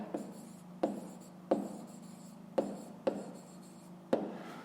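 Pen or pencil writing on paper during a fifth-grade maths exercise, close and quiet, with short scratching strokes and a sharper tap at the start of each of about seven word groups.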